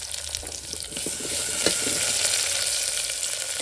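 Onions fry with salt in a pan for sambar, sizzling in a steady close crackle with occasional stirring scrapes and no voices.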